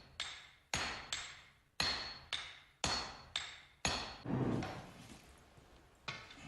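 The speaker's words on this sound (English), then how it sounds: "the steel is lengthened with one small hammer" A swordsmith forges steel for a Japanese katana blade, striking it with a hammer in about nine loud, ringing blows at an uneven pace, each ring fading before the next, with a brief sizzling burst midway.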